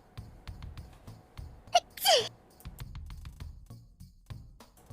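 A single sharp human sneeze bursts out close by in a quiet room, preceded by a short sharp intake, with faint clicks and soft background noise around it.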